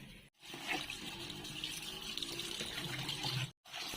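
Fish rinsed under a steady stream of running tap water for cooking paksiw na sapsap, a continuous close splashing gush that cuts out briefly near the start and end.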